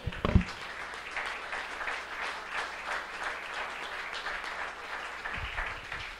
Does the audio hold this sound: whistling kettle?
no